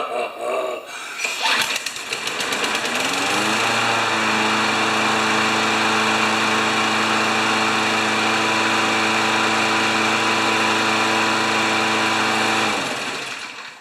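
A Poulan Pro lawn mower with a Briggs classic 190cc engine starts with a pull and settles into a steady, close, droning run for about ten seconds before it cuts off.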